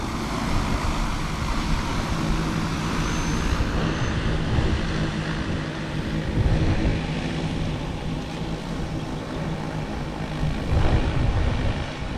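An agricultural drone flies over a rice field during planting, its steady loud propeller drone filling the whole stretch with no talk.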